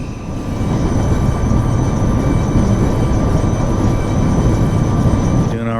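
Heavy freight train slowing on Cajon Pass behind a lone MP15 locomotive with its independent brake applied, giving a loud, steady rumble with a high, thin brake squeal held continuously throughout.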